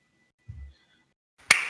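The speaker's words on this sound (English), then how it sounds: "That's my little clap for you, my good sir." A single sharp hand clap rings out close and loud near the end, preceded by a brief soft low thump and otherwise silence.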